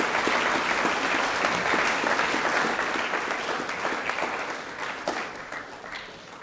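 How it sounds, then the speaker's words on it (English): Many hands clap for a robotics team at a high school co-curricular prize giving, a loud, dense round of applause that tapers slightly over several seconds. "Round of applause for our robotics team."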